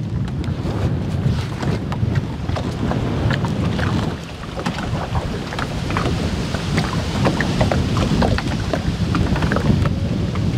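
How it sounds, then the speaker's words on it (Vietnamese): Strong wind roars steadily into the microphone out on open floodwater while a small boat is pushed along during a snakehead fishing trip in flood season, a loud continuous buffeting with choppy water sounds throughout and no talking. "Quá trời gió này"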